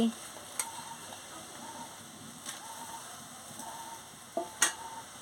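Mung dal with chikni greens and turmeric stirred in a pan, soft sporadic scrapes and taps of a spoon over a low, quiet sizzle, close by, with no talking.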